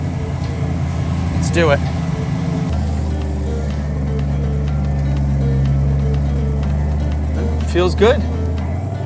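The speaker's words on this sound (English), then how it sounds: "Wait for that fuel pump to prime, and starts and runs." A car engine starts once the fuel pump has primed, then settles into a steady mid-pitched idle close by, with someone talking over it now and then.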